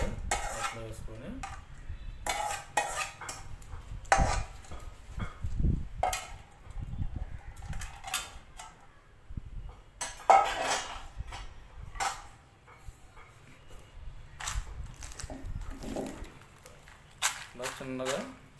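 Roasted coriander, cumin and dry red chillies are pounded in a stone mortar for a raw mango chutney: irregular, close, dull stone thuds and grinding knocks, with a voice heard at times.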